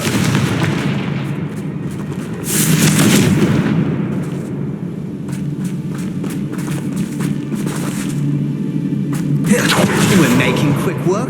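Fiery Confringo spell blasts from Hogwarts Legacy land as a rapid run of sharp booms and crackles inside a wider battle din, loud and close, mixed with low rumble and occasional voices.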